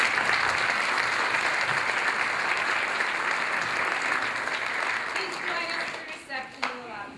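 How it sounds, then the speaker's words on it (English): Sustained audience applause at a celebratory gathering fills the room with dense, steady clapping for about six seconds, then thins into scattered claps with a few voices as it winds down. "So let's give them a round of applause."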